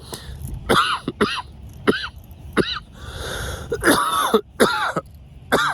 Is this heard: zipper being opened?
no